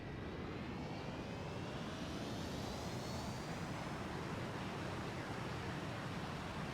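A freeware F-86 Sabre jet in a flight simulator, a steady broadband engine roar with a faint rising whine as it rolls out, constant and even with no talking.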